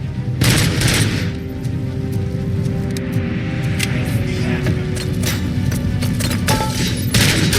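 Auto 9 pistol fire in the video game RoboCop: Rogue City, loud rapid bursts of punchy gunshots and booming impacts repeating across the scene, with short gaps between volleys.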